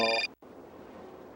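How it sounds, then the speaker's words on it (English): A phone rings in the Syberia adventure game: a short, bright electronic ring, loud and close, cut off abruptly and followed by low background ambience. "phone call"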